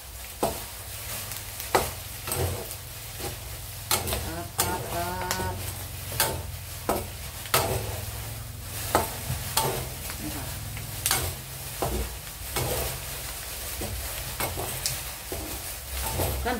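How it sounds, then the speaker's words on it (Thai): Thai pork belly crackling (khaep mu) sizzles steadily in hot frying oil, with a continuous hiss broken by frequent popping bursts and occasional stirring sounds, close and fairly loud. "เดี๋ยวให้แคบหมูแตก"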